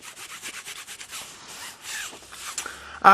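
Close, continuous rasping of a large stainless steel plate file scraping back and forth across a surface in quick strokes, ending with a louder scrape.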